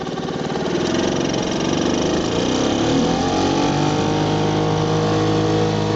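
A 1953 Elgin 2 horsepower outboard motor runs steadily on an aluminum boat, a loud, even buzzing drone close to the microphone with no talking.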